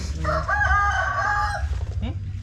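A rooster crows once, close and loud, in a long drawn-out call over steady low outdoor background noise, with a brief squawk right after.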